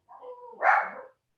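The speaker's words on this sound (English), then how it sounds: "You can see the dog barking at the window." A pet dog barks at a house window, giving a low whining yip that breaks into one louder, sharper bark nearby, then fades.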